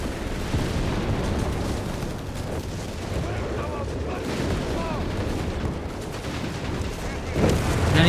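Mortar fire and gunfire from a Company of Heroes 3 match boom and rattle in dense continuous battle noise, partly under a commentator's voice, with a louder blast near the end.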